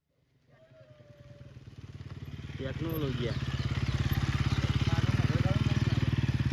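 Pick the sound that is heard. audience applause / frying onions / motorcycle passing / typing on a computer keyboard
motorcycle passing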